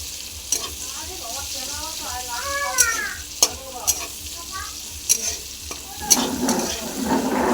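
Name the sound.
onions frying in a pan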